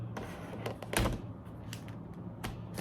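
Apple iPad Pro 12.9 in space grey clicking into its protective case, a few short plastic clicks and snaps close by, with one louder snap in the middle, over quiet room noise.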